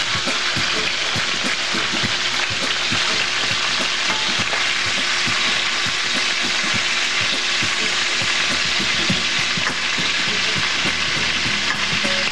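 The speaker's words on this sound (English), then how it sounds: "I'll put black pepper, and turn in the sausage." Sausage fries in a pan with heavy garlic powder and black pepper, a steady loud sizzle and crackle with scraping stirring strokes throughout, no voices.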